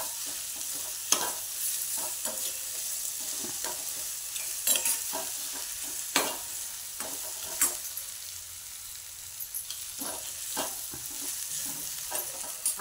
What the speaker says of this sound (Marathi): हे कांदा आता आपलं चांगला परतत आलेला आहे.